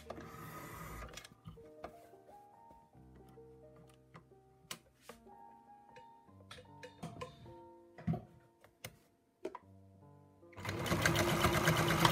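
A sewing machine stitching a fabric pouch for vocabulary cards, running in short bursts with ticking mechanical clatter and pauses, ending in a longer loud run.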